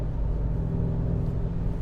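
A BMW M5, a 5 Series sedan, driving on the road, its engine and tire rumble a steady low drone heard from inside the car, with no talk over it.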